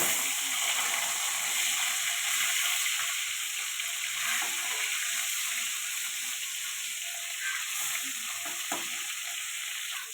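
Bhola fish sizzling steadily in hot oil in a kadai just after being turned, a dense continuous crackle with a few soft clinks, close and alone.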